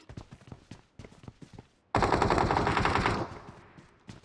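Video game gunfire breaks out suddenly as a loud, dense burst of rapid automatic shots lasting over a second, then tapers off, with scattered clicks and thuds before it.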